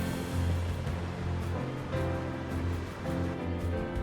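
Ocean waves surge and wash at Thor's Well on the Oregon coast, a continuous close roar of churning water with swelling, rushing pulses and no talk.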